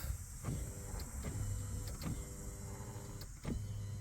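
Electric power seat motor in a 2003 Nissan 350z Touring whirs in several short bursts as the seat runs back and forth, each run a steady hum at close range, with no talk.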